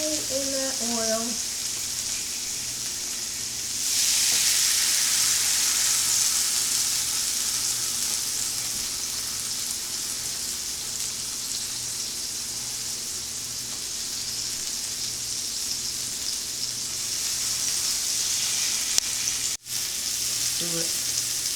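Tortillas sizzle steadily in hot oil while being dipped for birria chicken tacos, a loud continuous fry that swells after a few seconds, with brief talk near the start.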